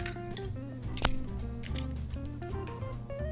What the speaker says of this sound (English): I've got 4 eggs here, and I'm just gonna crack it right into the bowl.